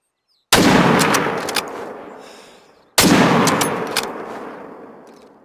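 Two loud rifle shots fired at wild boars in the hunting game theHunter: Call of the Wild, each a sharp crack followed by a long rolling echo that fades out, a couple of seconds apart.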